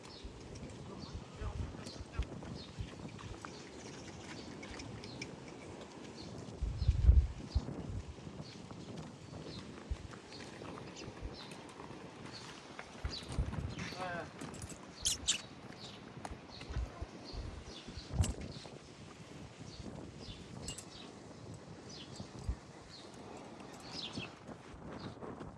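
A Nukra horse is led out and its hooves clip-clop unevenly on the ground, some steps sharper and louder than others. Faint birdsong and a low murmur of voices continue in the background throughout.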